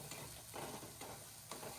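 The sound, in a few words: masala spices frying in a pan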